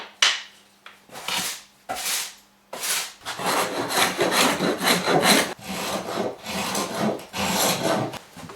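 A hand plane shaving the edge of a wooden door during installation, repeated long rasping strokes of the blade across the wood, close and steady, coming in rhythmic passes with brief pauses between them.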